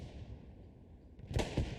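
Gunfire in the WWII shooter Hell Let Loose during a competitive esports match, a few sharp cracks bursting out near the end over a low rumbling battlefield bed.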